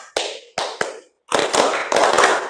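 Classroom group patterned hand clapping in a school guidance session, with a few separated sharp claps, a short silence, then a dense rapid run of loud, close claps in grouped bursts.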